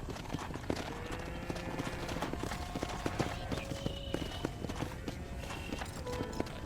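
Steady horse hooves clip-clop in a quick walking rhythm in Red Dead Redemption, with game music and ambient tones playing underneath.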